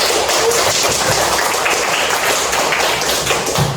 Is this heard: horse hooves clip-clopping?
no